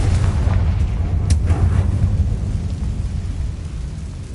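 A Confringo blast spell in Hogwarts Legacy erupts as a deep, rumbling explosion, a sustained low boom rolling on for several seconds with a brief sharper crack near the start, loud and alone.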